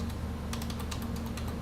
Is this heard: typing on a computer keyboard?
yes